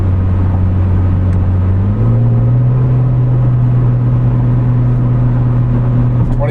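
A Chevrolet Camaro V6 with an MRT axle-back exhaust drops a gear at highway speed, its engine note stepping up in pitch as the revs rise, then holding a steady, smooth drone, close and loud.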